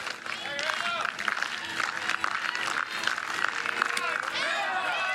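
A crowd at a college softball game between the Jacksonville Dolphins and the Florida Gators claps and cheers steadily after a home run, with a commentator talking over the applause.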